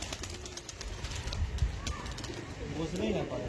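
Madras pigeons coo in a loft, a soft, low, repeated cooing that swells toward the end over steady background noise and murmuring.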